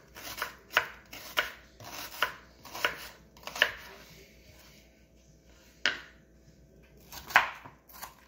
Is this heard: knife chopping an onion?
yes